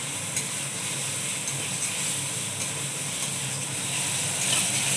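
Fried potatoes sizzling in a pan of spiced masala for a fish curry, a steady close hiss and crackle with light stirring, no voices.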